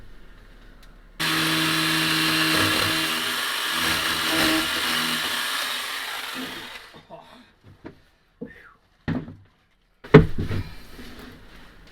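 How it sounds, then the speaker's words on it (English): Chainsaw cutting into heavy wood during woodwork, a loud steady buzzing roar for several seconds that cuts off, followed by scattered knocks and faint speech. "This is how we use a chainsaw."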